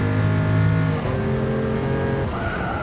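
A Toyota Supra engine in the racing game Gran Turismo Sport drones loudly and continuously, its pitch dropping as it shifts, with a high whine running over the steady roar.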